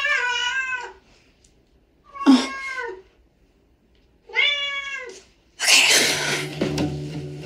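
A cat gives three separate, clear meows spaced a couple of seconds apart, each rising and falling, followed by a broader noisy burst that sounds like a sneeze or rustle; close and fairly loud with no talk.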